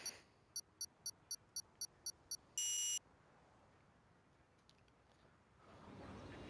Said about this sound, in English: as there is beeping again in my ear